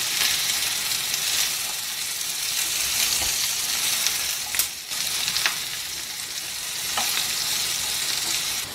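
Ridge gourd with green chillies fries in a pan for a chutney, a loud, continuous close sizzle with occasional stirring scrapes and a brief dip midway.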